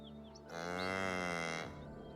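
A single ox in Baldur's Gate 3 lets out one drawn-out low moo that lasts about a second, clear and close over quiet game ambience.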